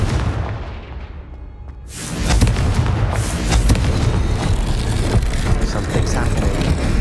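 A Confringo fire spell from the Hogwarts Legacy video game bursts with a sudden loud boom around two seconds in, after a quieter lead-in, followed by a dense, sustained crackling roar of game effects and rumble.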